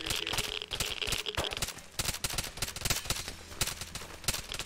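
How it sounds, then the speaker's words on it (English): Rapid bursts of video game gunfire in a dense irregular volley, crackling shots piling over one another at moderate loudness without speech. "Very confused as to who is shooting at us."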